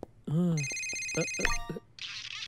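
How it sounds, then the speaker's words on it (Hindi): An electronic phone ringtone trills in a library under a voice speaking nearby, then stops, followed by a short burst of noise. "इस फोन को बंद करो।"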